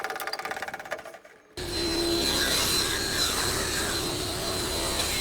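A saw cuts a thin wood sliver at a 45-degree angle for a French cleat on a wine rack, a loud steady grinding roar starting abruptly after a brief spinning-up whir.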